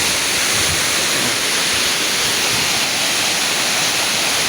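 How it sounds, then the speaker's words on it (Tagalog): A long waterfall where people are bathing pours with a loud, constant broadband roar of falling water, steady and unbroken throughout. "Sobrang haba tong busay na to."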